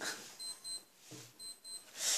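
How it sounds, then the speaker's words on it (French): A stopwatch with a built-in alarm beeping indoors in short repeated high-pitched bursts, a few evenly spaced pulses ending in a louder burst, fairly faint with no talking. "c'est Léa qui a ramené un chronomètre. Bref, qui fait alarme en même temps."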